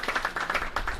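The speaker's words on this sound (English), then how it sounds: "Yeah, clap her up." A small group at a press conference claps in quick, slightly uneven beats, loud and close, with no other sound in between.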